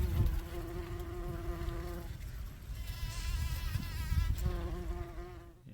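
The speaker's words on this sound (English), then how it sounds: "Left the sound on for this little bee." A bee buzzes close by in an allotment garden, its steady drone rising and falling in pitch as it hovers and moves around, with faint outdoor background.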